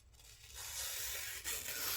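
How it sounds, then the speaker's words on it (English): A Twosun TS426 knife with an N690 blade drawn through phone book paper, giving a short rising scraping rasp that swells, breaks off briefly, then continues close and clear. "I went from one end of this blade to the other and basically pushed it through phone book paper"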